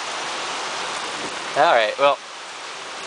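Heavy typhoon rain pours steadily in Kyoto, a dense, loud, continuous hiss throughout, with someone briefly speaking over it.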